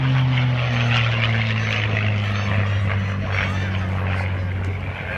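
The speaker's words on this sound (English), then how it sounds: "Here comes Tom Duffy's P-51." A P-51 Mustang warbird flies past at an airshow with a steady, droning propeller roar. The drone is loud and fades slightly toward the end, with a faint background hum of the crowd.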